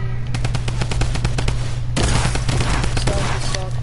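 Rapid bursts of automatic gunfire aimed at the player in a PS4 shooter, loud and continuous over about four seconds, with a sharp crackling second volley joining midway.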